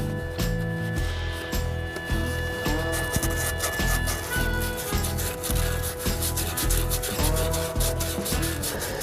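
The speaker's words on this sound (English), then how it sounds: "I'm just taking a little bit of sand cloth here to try and minimize the bind up." Sand cloth rubbed back and forth on a rear wheel bearing part from a 2014 Subaru Outback, a loud, close, steady rhythmic scrubbing with regular strokes roughly every second, no talking.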